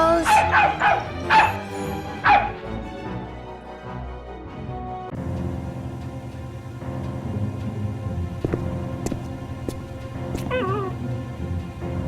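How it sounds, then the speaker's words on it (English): A dog in the Nancy Drew computer game Resorting to Danger lets out a quick run of several barks at the start, then the game's quieter ambience continues. "That dog is in here somewhere."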